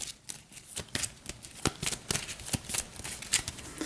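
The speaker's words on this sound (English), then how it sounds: "So we'll give these another shuffle." A deck of game cards shuffled during a tabletop campaign session gives a quick run of crisp riffling flutters in rapid, uneven bursts, close and alone without talk.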